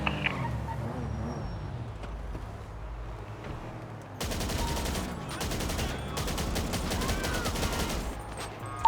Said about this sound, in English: Shots from brown garage.